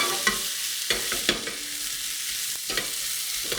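Garlic and tomatoes are stirred into gnocchi frying in a pan: a soft, steady sizzle broken by several sharp scrapes and taps of a utensil, close and without speech.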